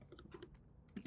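Quick typing on a computer keyboard, a short burst of soft, closely spaced key clicks with a couple of firmer taps at the end, quiet and close.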